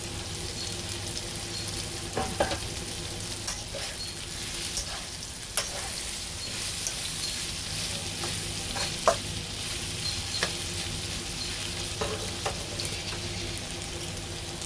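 Onion and leek stir-fry in a pan for a Chinese dish, a continuous close sizzle with scattered clicks and knocks from a stirring utensil throughout.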